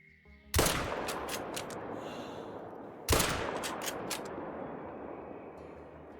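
Two loud, sharp rifle shots in the hunting game Call of the Wild, fired at a fox a few seconds apart, each cracking close and then rolling away in a long echoing tail.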